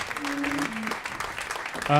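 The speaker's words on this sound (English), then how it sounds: "So you can keep clapping." Live comedy-club audience in New York clapping as a performer leaves the stage, a dense, steady wash of applause lasting the whole moment, with a host's voice talking over it.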